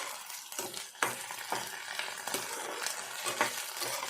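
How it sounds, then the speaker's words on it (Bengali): Ginger-garlic paste sizzling in a pan for a Bengali bottle gourd kofta curry, a close hissing fry with rhythmic stirring scrapes about every half second, no talking. "ভালো করে নাড়াচাড়া করব।"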